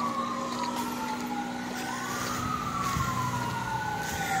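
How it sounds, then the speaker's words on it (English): An emergency vehicle siren wails, rising and falling steadily over low traffic rumble, fairly close and continuous, with no one talking, at a tornado damage scene in a village. "I hear sirens, holy crap."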